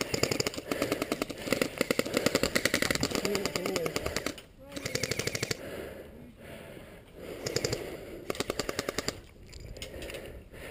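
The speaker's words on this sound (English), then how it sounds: "What's that shotgun?" Rapid airsoft gunfire rattles in repeated bursts at an outdoor skirmish site, with some bursts near and others farther off, while players talk over and between the shots.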